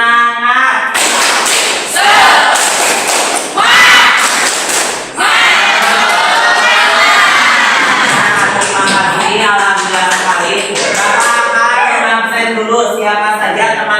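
Schoolchildren in a classroom do a rhythmic spirit clap, with a burst of sharp group claps up front and then loud chanting voices of the whole class carrying on together.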